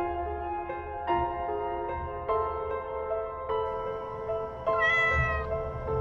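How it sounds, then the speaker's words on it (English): Cats meow over and over at night after coming back home, with long tonal cries overlapping one another, loud and near, ending in a higher, drawn-out wail. "These cats haven't stopped meowing since they've gotten back."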